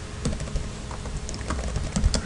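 Close, steady typing on a computer keyboard, a run of quick uneven key clicks entering a note in home inspection software, with no voices.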